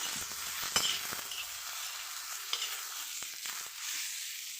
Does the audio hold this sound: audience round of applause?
no